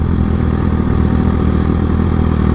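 Motorcycle engine running steadily at low revs during a slow U-turn on a road, a loud continuous close-up rumble with no speech.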